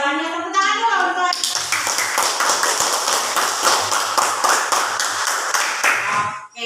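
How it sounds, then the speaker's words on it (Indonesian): A classroom of children claps together in a fast, rhythmic unison pattern after a teacher's prompt, loud and close, with a voice speaking briefly at the start before the clapping takes over. "Tepuk tangan dulu untuk."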